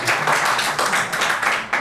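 A classroom group claps together in a steady, dense burst of applause, loud and continuous for a moment with no talking over it.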